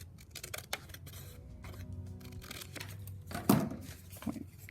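Scissors snip through old book pages cut for paper flowers, with a few close, crisp crunches and a sharper cut near the end over a quiet room.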